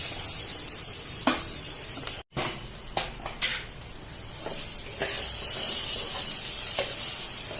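Soaked rice being stirred and fried into prawn biryani masala in a pan, a constant close hiss and sizzle with a few sharp spatula scrapes and a brief break, no talking.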